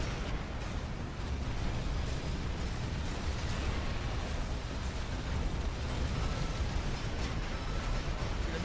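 Continuous rumbling barrage of missile explosions in a mech combat video game, a dense, steady roar with no clear breaks and no talking.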